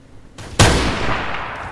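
A single loud gunshot from a Roblox Neighborhood War match cracks out sharply, followed by a long, fading reverberant tail after a brief rise in ambient noise.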